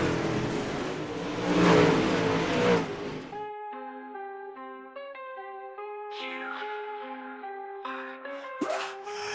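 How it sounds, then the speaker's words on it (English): UMP Modified race cars roar around the dirt oval at Cedar Lake Speedway in iRacing, a loud rushing engine blast for about three seconds before it cuts to music. "Engine roar, gravel fly"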